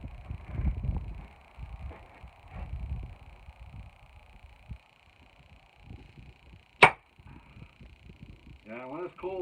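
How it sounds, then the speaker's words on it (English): Hickory log being split for axe handles, dull thumps and creaks of the wood under work, then one sharp loud crack of a blow, with someone talking and a dog briefly whining at the end. "it's split right across the middle of the log, so you can hear it already"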